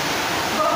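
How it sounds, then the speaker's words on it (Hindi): Steady gushing roar of Kapil Dhara waterfall near a cave entrance, a broad continuous wash of falling water filling the scene evenly for its brief length. "झरने की कलकल की आवाज़ आप लोगों को क्लियर सुनाई दे रही होगी।"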